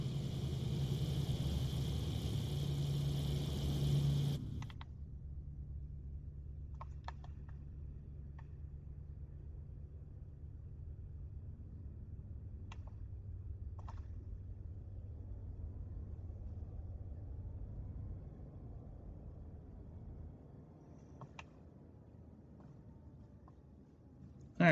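Engine of a Redwing LZ129 Hindenburg airship in Microsoft Flight Simulator 2020 drones steadily for a few seconds, then cuts off abruptly, leaving a faint low rumble with occasional small clicks.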